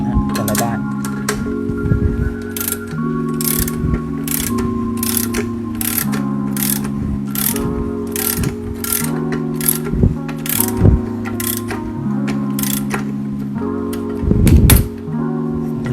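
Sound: twisting spring compressor on Toyota Vios front shock absorber

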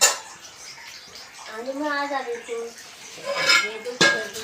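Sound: dishes being washed

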